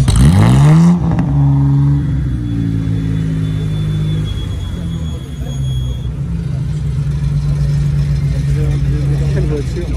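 A Jaguar XK120 sports car engine revs hard, then settles into a deep, steady idle rumble, loud and close.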